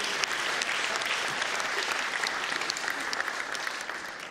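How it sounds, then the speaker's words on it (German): A studio audience at a Schlager music show claps steadily for several seconds, a dense, even wash of applause heard alone without talk. "Da kriegst du einen Taler und einen Applaus von unserem Publikum."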